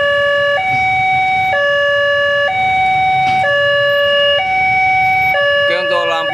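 A railway level-crossing warning siren at a crossing in Kediri sounds loudly and close, a repeating electronic two-tone pattern that steps between pitches about once a second, with faint voices underneath near the end.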